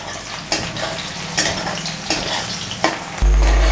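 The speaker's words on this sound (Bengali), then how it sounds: "দেখো পেঁয়াজটা আমার ভাজা পেঁয়াজটা হয়ে গেছে।" Onions fry in a pan for a chicken dish, a loud close sizzle with rhythmic stirring scrapes every second or so, ending in a sudden burst of strong hissing.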